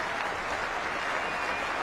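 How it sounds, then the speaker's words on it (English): A cricket crowd at a 1996 one-day international at Manchester, England against Pakistan, applauds a batsman's half-century with a dense, steady wash of clapping that carries on without a break. "And the cheer goes up for Michael Atherton's half-century."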